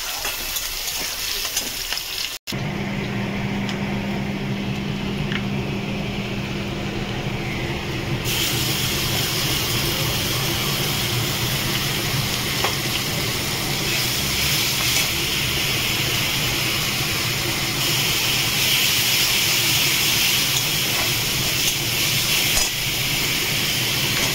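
Chopped onions fry in a pan over a high gas flame, a steady broadband sizzle that carries on without a break and grows slightly louder partway through.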